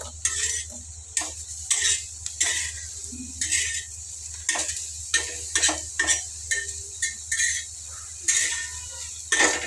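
A spoon stirs okra fry into a capsicum and potato curry in a pan, with repeated metal scrapes and clinks against the pan over a soft, constant sizzle.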